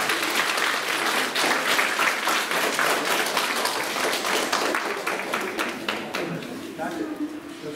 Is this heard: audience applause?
yes